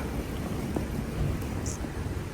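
Steady rain falls on a rainy day at the airport in Edmonton, a constant close hiss of drops on hard surfaces, with no voices.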